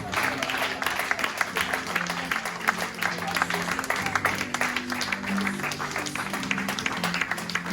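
A church congregation applauds and cheers the Lord in sustained, dense clapping that holds steady throughout, with voices mixed into the crowd noise.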